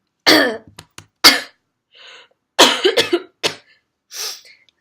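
A person with a cough coughs and clears their throat up close: a loud series of harsh coughs and throat-clearing rasps separated by short silences and audible breaths.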